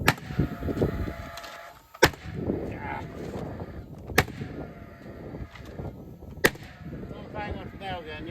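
A nail gun drives nails into the wood of an outhouse under construction, with four sharp, loud cracks spaced about two seconds apart over a busy outdoor worksite background.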